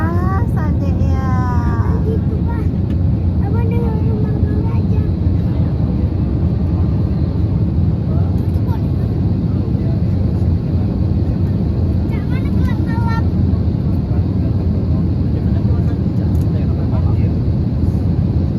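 Steady, loud broadband roar of a Batik Air airliner cabin in flight, a continuous low drone filling the whole stretch, with a voice and other talk breaking through now and then.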